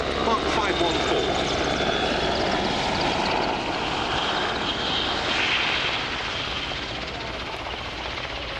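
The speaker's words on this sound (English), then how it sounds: "Final pass then from the Portuguese Air Force AW101 Merlin, Mark 514." A Portuguese Air Force AgustaWestland AW101 Merlin Mk 514 helicopter makes a final pass at the RIAT 2025 airshow, a loud rotor and turbine roar that slowly fades as it moves away, under a commentator's voice.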